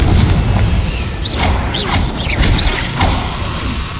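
Repeated spell blasts from the Confringo fire spell in the Hogwarts Legacy video game, several bursts with whooshing rising tones about every half second over a steady low rumble, fairly loud.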